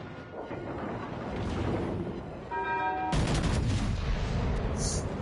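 Secondary guns on a battleship in World of Warships Legends fire in a rapid string of sharp reports over steady battle rumble, with a bright tonal ring partway through and a louder, denser volley in the second half.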